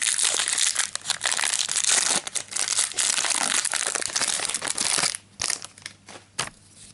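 Foil booster pack wrapper for Magic: The Gathering Throne of Eldraine being torn open and crinkled, loud continuous crackling up close, then a few sharper separate crumples after a brief lull.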